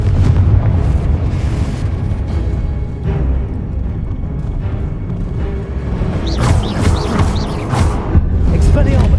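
Confringo blasting spells explode in Hogwarts Legacy, loud rolling booms that rumble continuously through a duel, with shouted spell casts and other voices breaking in near the end.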